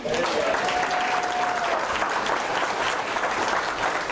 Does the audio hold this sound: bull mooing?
no